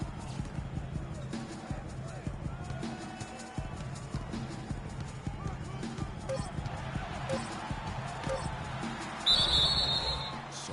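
Referee's whistle at a basketball game, a short shrill blast near the end of the clip over constant crowd noise and commentary, with the arena hubbub continuing throughout.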